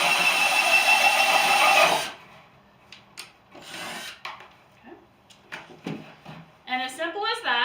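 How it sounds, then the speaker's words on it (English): Cordless drill fitted with a 3/4 inch paddle bit boring a hole through a plastic tub, a loud dense whir and rasp lasting about two seconds, then quieter scattered clicks and handling noises. "I have a 3/4 inch paddle bit on my cordless drill"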